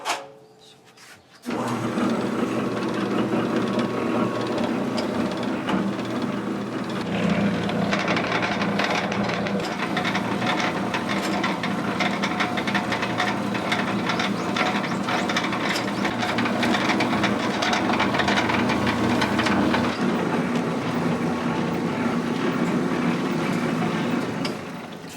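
A noodle-cutting machine with automatic flour dusting slices Okinawa soba noodles in a small shop in Motobu, Okinawa. It starts abruptly and keeps up a loud, steady mechanical clatter and rattle, close by, with no talking.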